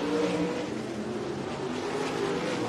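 Sprint cars roar around an ASCS Northern Outlaws main event on the El Paso County Raceway dirt oval, leaders working through lapped traffic; a dense, continuous engine drone with no break and no talk.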